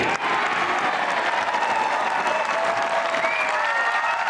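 A golf gallery at St Andrews breaks into sustained, dense applause after a significant putt in the final round of the Women's Open, loud and steady throughout with a few whistles rising above the clapping.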